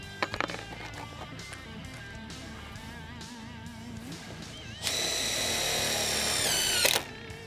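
Makita TD-172 impact driver sinking long self-tapping screws into wood: a steady motor whine with a burst of loud, rapid hammering clatter near the end, close and without voices.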